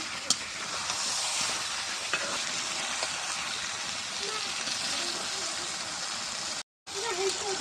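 Pieces of snakehead fish stir-fry in a pan with potatoes, giving a loud, continuous hiss and sizzle close by with a few scraping stirs, cut off for a moment near the end.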